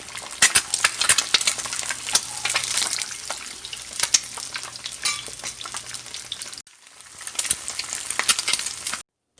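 Half-fried eggs sizzle and crackle steadily in oil in a pan at a Karachi street-food bun kabab stall, close and fairly loud, with sharp pops and a brief dropout near the end.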